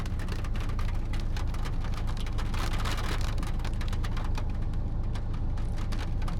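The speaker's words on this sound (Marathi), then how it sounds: "पाऊस तर चालू झाला आहे मला वाटतं जोरात वाटतं" Rain falls steadily and fairly heavily, a dense patter of drops striking nearby surfaces, with no voices over it.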